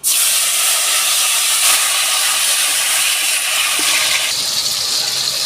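Chopped tomato hits hot oil already seasoned with white cumin, a bay leaf, chilli and a pinch of sugar, giving a loud, continuous sizzling hiss that fills the whole stretch without let-up.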